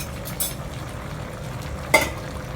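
A spoon gives a light stir to a pot of food that has stewed for about 20 minutes, making two brief, close clinks against the pot over a low, steady background.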